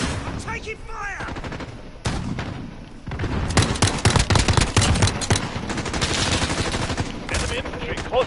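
Heavy video game gunfire crackles in dense, rapid bursts with booming impacts, growing louder partway through, while voices can be heard talking over the battle.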